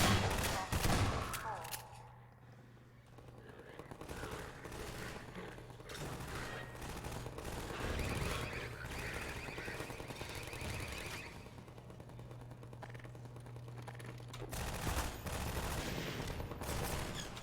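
Gunfire in the video game Half-Life 2, with rapid bursts of shots over a continuous wash of game noise and music, while someone talks over the action.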